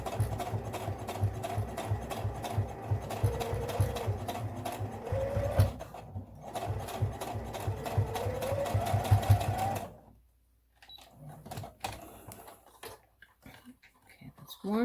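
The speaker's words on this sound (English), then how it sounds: "I try to do this slowly because it is still rather thick, and you don't want to break your needle or your machine." Sewing machine stitching slowly through thick fabric for a face mask, a loud steady mechanical whir for about ten seconds before stopping, followed by quieter handling noises.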